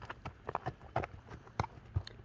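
A horse's hooves clip-clop in a quick, uneven gallop rhythm, close and fairly clear, with sharp individual strikes and no talk.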